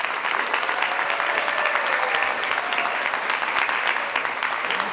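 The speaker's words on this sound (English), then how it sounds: "please put a round of applause together for Dr. Bernard Chinnasami." An audience at the opening of an annual summit applauds, a dense, sustained round of clapping from a crowd, loud and steady for the whole stretch.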